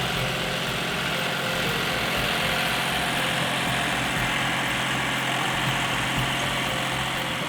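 A tractor engine idles steadily at close range, a constant low rumbling drone with mechanical vibration and no pauses or voices throughout.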